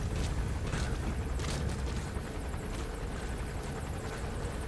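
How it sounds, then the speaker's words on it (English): Helicopter in the video game Metal Gear Solid V, a steady loud rotor roar with low rumbling thump filling the whole stretch, no voices over it. "It's just one man and a helicopter."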